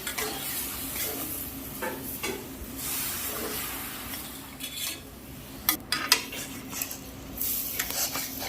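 Semolina halwa stirred in a pan as milk is added in small amounts, with close scraping and clinking of the spoon against the pan over a soft sizzle, and louder knocks near the end.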